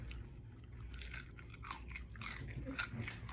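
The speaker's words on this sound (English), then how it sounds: "Listen to the crunch on this." Crunchy Pizza Hut pizza being bitten and chewed up close, a series of crisp crackling crunches and moist chewing over a quiet background, with no talking.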